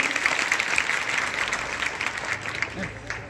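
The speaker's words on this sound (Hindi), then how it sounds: "एक बार और जोड़ा तालियों के अभिनंदन" Audience at a women's helpline organisation gathering applauding, a continuous soft wash of many hands clapping at moderate distance that slowly fades, with a voice coming in near the end.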